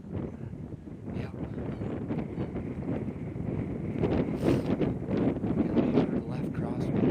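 Strong gusting wind buffets the microphone during a Kansas windstorm on an open hunting spot, a continuous loud rumbling roar that builds slightly toward the end.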